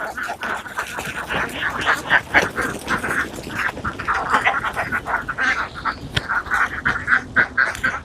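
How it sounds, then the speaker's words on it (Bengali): A large flock of rice-fed ducks on a duck farm quacks constantly in a field just after feeding, with many overlapping calls near and far forming a busy, loud chorus. "জাকির ভাই খাবারগুলা মাঠে দেওয়ার পর মুহূর্তে মাশাআল্লাহ অনেক সুন্দর সে হাঁসের বহরটি।"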